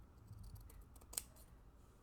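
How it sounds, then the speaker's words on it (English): Fabric scissors snip once while trimming cloth, a single crisp close cut over a faint room hush. "Where's my fabric scissors?"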